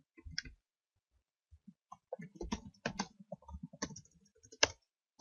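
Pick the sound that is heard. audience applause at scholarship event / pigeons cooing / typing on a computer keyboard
typing on a computer keyboard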